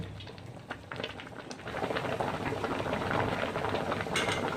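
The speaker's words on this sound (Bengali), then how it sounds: "এবার দুধেই সেদ্ধ করে নেব।" Carrots boil in milk in a pot for carrot halwa, a dense bubbling simmer that starts softer and grows into steady, loud frothing, heard close with no talking.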